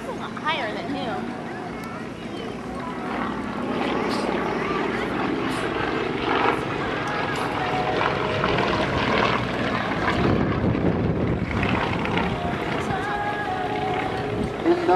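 A Nanjing CJ-6 and a Yak-18 perform aerobatics at an airshow, their propeller engines droning and swelling as they climb and pass. An announcer talks over the engine noise throughout.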